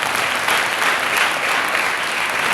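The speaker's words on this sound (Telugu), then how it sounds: "నిద్ర రాని వాళ్ళందరూ గట్టిగా చప్పట్లు కొట్టండి" A church congregation claps loudly, a dense, sustained burst of applause from many hands throughout.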